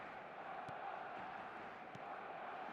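In a football video game, a stadium crowd roars after a goal: a steady, distant wall of cheering that stays even throughout, fairly faint and with no clear individual voices.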